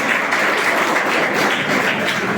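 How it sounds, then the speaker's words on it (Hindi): Students give loud, dense applause at a Gandhi Jayanti event in a hostel hall. The clapping is steady and continuous, with no talk over it. "देखो जोरदार तालियां।"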